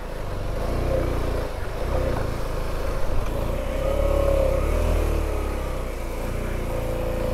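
A motorcycle climbing a difficult hill, its engine droning steadily at mid pitch with slight revving swells and a rough rumble, heard close throughout the clip.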